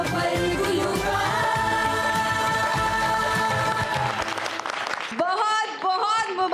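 Studio audience applause on a TV singing talent show, a dense, steady clapping that holds for several seconds before thinning out, while a host's voice speaks over the end.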